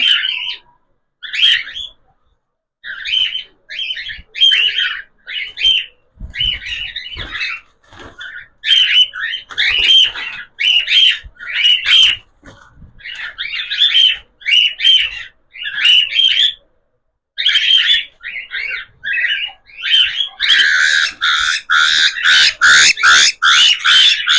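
Cockatiels squawk and call over and over in loud, repeated bursts, with a dense, rapid chorus of shrill cries building toward the end.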